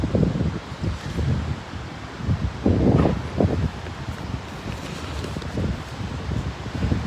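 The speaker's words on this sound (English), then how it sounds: "I hope the wind isn't causing too many problems." Wind buffets the microphone on a beach walk at Surfers Paradise on Australia's Gold Coast, a loud, steady rumbling whoosh with gusty surges throughout.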